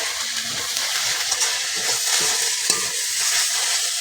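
Pui shak greens cooking in fish oil in a pan, a steady sizzle with repeated scraping stirs of a spatula, close and fairly loud, no voices.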